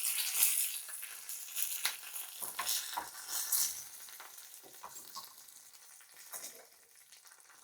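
Curry leaves and cut red chilli hit hot oil in a tempering for Mangalore-style tomato tambuli, giving a steady crackling sizzle with sharp pops early on that gradually settle and soften.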